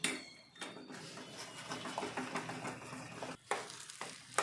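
A spoon scrapes and stirs semolina kesari in a pan as fried cashews and raisins are mixed in, with steady close scraping and faint sizzle and a few sharper clinks against the pot.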